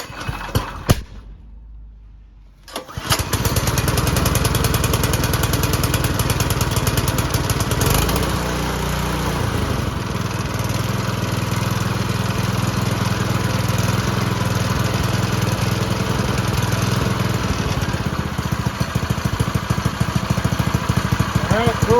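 Predator 212 small engine on a vintage flat track go-kart, first started cold on choke, catches after a quiet gap and then runs loud and steady at a buzzing idle, close up.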